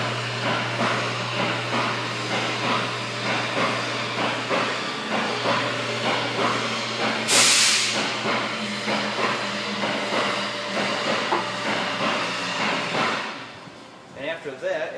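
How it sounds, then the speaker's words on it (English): Aerosol brake cleaner sprays in one short, loud hissing burst onto rusty front brake parts of a Ford Edge or Lincoln MKX, heard over a steady low hum and ongoing workshop noise. "we're going to take brake clean. We're going to clean up all that rust and debris."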